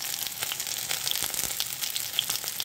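Potatoes fry gently in a little oil on low heat, a soft, steady crackling sizzle with scattered pops, close up, cutting off abruptly at the end.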